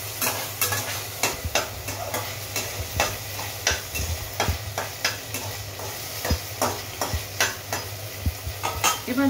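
A spoon stirs an instant Maggi soup mixture in a pot with steady repeated scraping strokes over a soft background sizzle, close and clear, with no talking.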